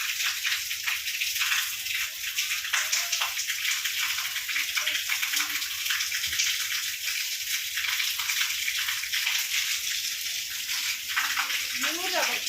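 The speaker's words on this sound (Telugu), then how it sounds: "వర్షం నుంచి గ్యాప్ లేకుండా పడుతుంది. ఒక్క నిమిషం కూడా గ్యాప్ ఇవ్వట్లేదు. చాలా పెద్ద వర్షం పడుతుంది." Heavy, unbroken rain pours down with rainwater splashing and flowing, making a dense, continuous wash of noise close by, without any clear talking over it.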